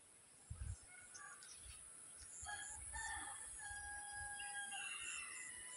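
Roosters crow in the distance and chickens cluck faintly over a steady outdoor hiss and a constant high whine, with no voices.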